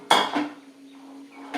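A few sharp metallic clinks and scrapes ring out close by, a brief clatter of crispy fried snake gourd chilli chips knocking against a metal pan.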